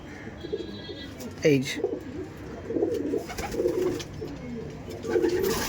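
Madrasi pigeons kept for tournament flying, with several soft low coos repeating near the microphone over faint background voices.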